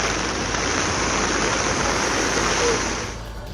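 Floodwater roars through the gap where a bridge was washed away in Tikamgarh district, a loud, dense, continuous rush that fades slightly at the end.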